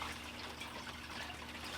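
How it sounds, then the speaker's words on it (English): Recirculated water running through a backyard prospecting toolbox sluice, a constant close trickling wash with a faint steady pump hum underneath. "this sluice is running perfectly"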